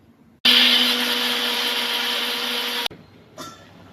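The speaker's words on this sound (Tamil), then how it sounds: "இதெல்லாம் சேர்த்து நம்ம அரைச்சி எடுத்துட்டு வந்துடுவோம்" Mixer grinder grinding cumin and green chilli into a paste, a loud steady high-pitched motor whine running for about two and a half seconds, then cutting off, followed by a brief second pulse.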